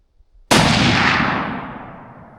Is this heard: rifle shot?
yes